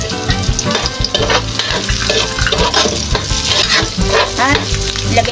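Chopped onion frying in oil with garlic, stirred continuously in a pan, giving a loud, steady sizzle broken by scraping strokes of the spoon throughout.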